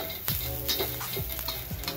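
Grated coconut and spices roast in a hot pan for misal masala, with steady crackling sizzle and a few sharp taps of a spoon scraping the pan.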